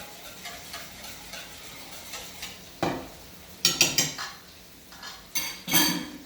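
Vegetable broth is mixed into chicken stuffing in a dish, with a utensil clinking and scraping in several close, sharp bursts over a soft wet background.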